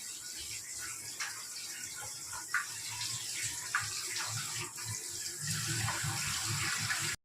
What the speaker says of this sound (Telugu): వర్షాలకి అది మట్టి ఉంటుంది శుభ్రం కడగాలి